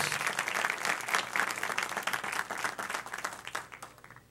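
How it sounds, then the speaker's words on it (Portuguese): Church congregation clapping during a sermon, a lively burst of many hands that starts strong and gradually thins and fades over a few seconds. "eu quero que você aplaude Jesus por isso"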